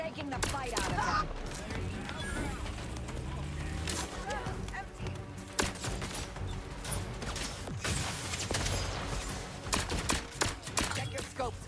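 Rapid gunfire bursts and impacts from a sci-fi shooter, The Outer Worlds 2, crackling continuously at close range over game music and effects, with someone talking throughout.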